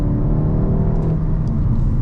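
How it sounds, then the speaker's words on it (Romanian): The engine of a Skoda Octavia 4 revs, a loud, steady rumbling drone heard close, with a full low tone holding throughout the short stretch. "E un motor foarte elastic și un motor care se aude binișor."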